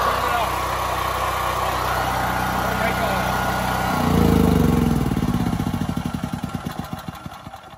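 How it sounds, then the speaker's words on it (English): A Firman 9400 dual fuel generator engine runs with a steady loud drone, then surges briefly and is switched off, its pulses slowing and fading as it winds down to a stop. "that is the Firman Duel Fuel 9400 generator"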